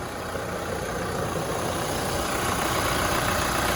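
A 2020 Chevrolet Colorado ZR2 4x4 with the Duramax 2.8 diesel idles steadily, a constant close engine rumble with no talk over it.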